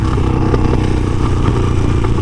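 A Harley-Davidson Sportster engine with a newly installed aftermarket exhaust idles nearby with a deep, steady, loping rumble and a faint mechanical clatter, holding even without revving.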